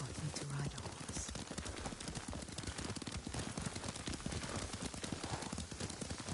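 A horse's hooves clip-clop steadily in Ghost of Tsushima as it is ridden at a brisk, even pace, close and continuous under faint background sound.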